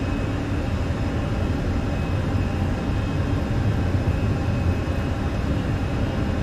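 Steady broadband roar of Airbus A320 jet engines during the takeoff roll in Microsoft Flight Simulator 2020, a constant loud rumble with a faint high whine and no variation in level.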